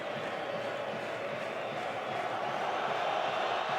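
A large football stadium crowd at the Euro 2016 final between Portugal and France reacts with a sustained, loud, unhappy roar and murmur to a dummy goal kick, a dense wash of many voices with no single speaker.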